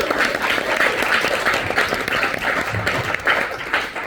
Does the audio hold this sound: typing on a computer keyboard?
no